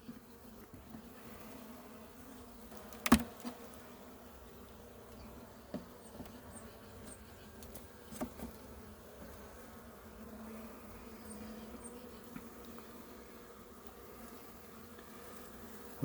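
Honeybee colony humming in an open hive during an inspection, a steady low buzz that carries throughout with a few sharp knocks of frames and equipment, fairly faint and with no talking.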